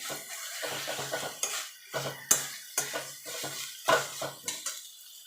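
A spatula scrapes and knocks around a pan as cumin paste is mixed into cooked chickpea greens, giving a series of irregular metallic scrapes and clacks with faint sizzling in between, close and alone.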